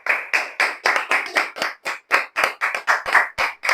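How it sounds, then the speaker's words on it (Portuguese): A church congregation claps in a brisk, irregular rhythm during a Portuguese-language communion service, loud and near, about a dozen sharp claps in under four seconds with no talk. "Aplauda ao Senhor em nome de Jesus."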